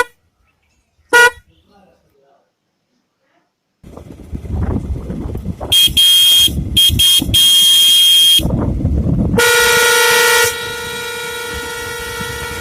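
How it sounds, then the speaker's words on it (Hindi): Dual car horn on a vehicle, wired through a dual switch and powered with the ignition on, blares loudly in sustained blasts after a brief earlier toot, with some mechanical rumble before it. "अब जब भी मैं इग्निशन ऑन करूंगा तो मैं अपनी इस हॉर्न को भी यूज़ कर पाऊंगा।"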